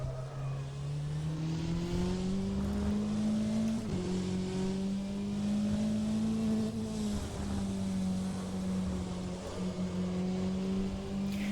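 GTE race car in rFactor 2 with a steady, loud engine drone whose pitch climbs and settles through gear changes, a continuous near-field roar with no talk over it.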